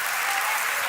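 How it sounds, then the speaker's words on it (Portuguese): A church congregation applauds in a dense, even wash of clapping for a brief moment, loud and close. "Dá uma salva de palmas ao Senhor."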